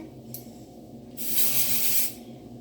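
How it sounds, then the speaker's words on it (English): A brief puff, then a longer hissing spray burst lasting about a second, close up over a quiet background hum. "pull up a new section, spray some more."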